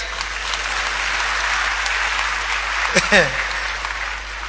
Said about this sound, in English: It's a good place to clap even though you don't like it